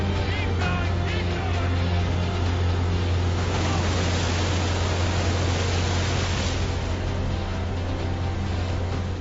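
Rough sea with waves about two metres high, about five kilometres off the Normandy coast, makes a loud, steady broadband roar and wash that runs unbroken through the whole stretch with no voices.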